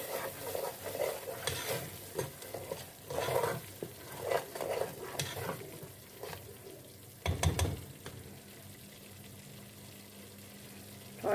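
Coriander, salt, turmeric and red chili being stirred in a pan for Lahori chana, a steady scraping and sizzling with repeated spoon strokes, ending in a louder clatter against the pan.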